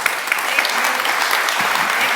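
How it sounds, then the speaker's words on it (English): An evening audience at a public meeting on political corruption in SLO County claps together, a dense steady wash of applause with no breaks, moderately loud and fairly close. "Can you all clap with me for that?"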